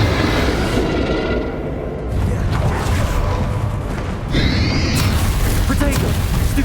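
Bombarda spell blasts in the Hogwarts Legacy video game, a loud continuous roar of booms and rumbling impacts with battle voices underneath, and a sharp burst near the end.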